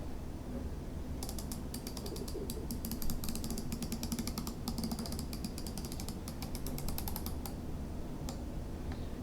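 Rapid run of tiny ratcheting clicks from the rotating compass bezel on an Armitron 40/8254 sport watch as it is turned, close and faint over a steady background hiss.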